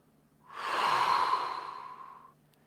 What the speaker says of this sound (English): Get ready to exhale.